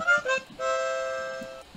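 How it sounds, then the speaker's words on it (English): Piano notes struck, a couple of short tones followed by a held chord that rings and slowly fades, fairly close and clear with no talk over it. "This is what a piano sounds like"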